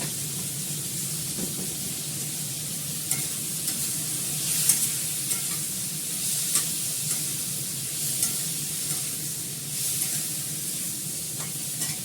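Spices frying in a pan and stirred with a wooden spoon: a steady close sizzle with soft scraping strokes of the spoon recurring throughout, no voices.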